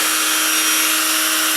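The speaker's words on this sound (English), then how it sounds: "you actually go in with your drill and just, I'm kind of like going over it" Steady, loud high-pitched whine of a power drill carving eyes, running continuously and close up with no pauses and no talking.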